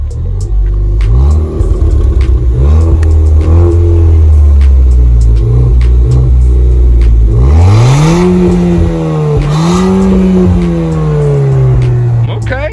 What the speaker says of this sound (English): let's start here in the back, guys, with a startup and some revs